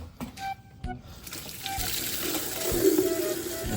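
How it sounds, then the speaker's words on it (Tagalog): Water pours from a tap to fill a drinker for Pekin ducks, starting after a few brief knocks and building into a steady, close, rising stream as the container fills. "Halagyan ni Kuya Liam ng punong tubig"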